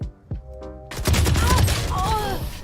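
A burst of rapid gunfire in a shooter video game, dense crackling shots filling the second half after a short quiet stretch with faint tones, loud and close.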